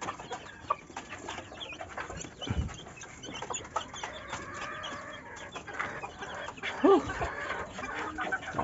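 Chickens, including roosters, cluck and murmur softly nearby amid a busy outdoor background, with a short louder squawk near the end.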